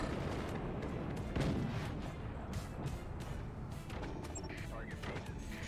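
Howitzer shells fire and land in the video game Forts, a quiet stream of muffled booms and crashing impacts scattered across the clip over a dense battle din.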